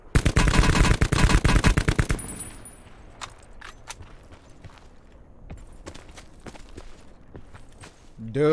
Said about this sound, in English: Is the AK the best assault rifle in the game right now?